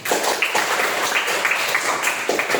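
A seventh-grade class of children applauds in their classroom, a steady patter of many small hands clapping nearby for a few seconds.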